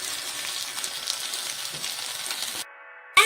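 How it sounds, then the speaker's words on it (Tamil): A cabbage chicken roll fries in a pan with a loud, continuous crackling sizzle up close, briefly dropping away before flaring again at the very end. "ஸோ இதை எடுத்து நம்ம இப்படி ஃப்ரை பண்ணிக்கலாம்."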